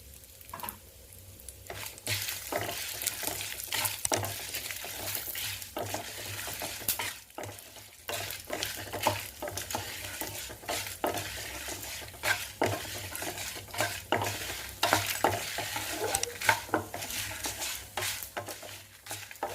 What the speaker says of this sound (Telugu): వేగాయండి ఎర్రగా.